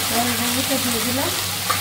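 Sliced okra frying in oil, a dense, even sizzle with stirring scrapes heard close by, partly under a faint musical tone.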